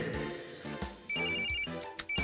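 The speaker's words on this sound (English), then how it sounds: "Ring, ring, ring, it's phone." A telephone bell rings in repeated bursts, bright and insistent, over a steady music bed.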